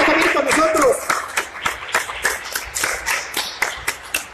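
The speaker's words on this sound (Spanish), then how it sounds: "a quien le vamos a brindar un fuerte aplauso" Scattered clapping as a sales manager is welcomed at a Nissan campaign launch, loose separate claps over a brief burst of speech.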